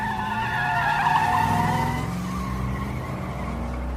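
A car pulls away with its tires squealing, a loud, sustained skidding whine over engine roar that slowly fades as it drives off.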